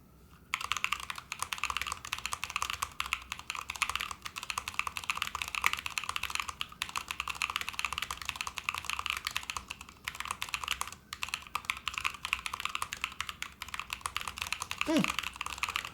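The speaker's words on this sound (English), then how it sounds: "you can just bring it together like that and you can actually type some stuff" Typing on an SP-111 mechanical keyboard fitted with linear switches: a dense, continuous patter of close keystrokes over about fifteen seconds, with a couple of brief pauses and no talking.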